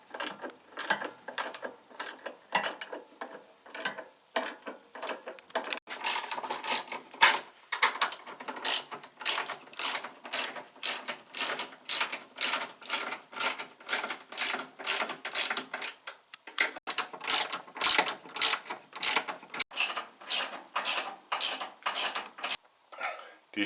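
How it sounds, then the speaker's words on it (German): Hand ratchet tightening the bolts on the front stabiliser bar of a Porsche 944 in turn, a long run of fast, crisp clicking strokes, close and steady, with a couple of brief pauses between bolts. "jetzt ziehen wir reihum alle Schrauben an."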